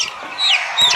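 Fayoumi (Egyptian) farm chicks calling, two short high chirps close by, with faint rustling between them.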